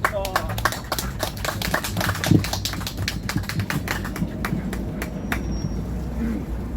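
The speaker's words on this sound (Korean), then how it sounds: "자, 우리 박수로 환영하도록 하겠습니다." A church congregation claps in welcome during a worship service, a steady run of sharp hand claps over several seconds with a voice speaking over it.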